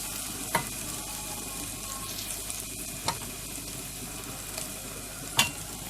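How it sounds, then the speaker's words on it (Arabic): Garlic, coriander and black pepper sauté in a little oil in a pan with a steady low sizzle, while a utensil scrapes and stirs through it in a few sharp, distinct knocks spaced a couple of seconds apart; no one speaks. "ونقلبهم، نشوحها شويه لغايه ما تطلع ريحتها"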